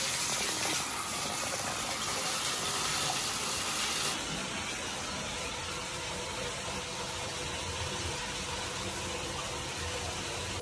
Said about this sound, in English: So I'm going to go ahead and start some water.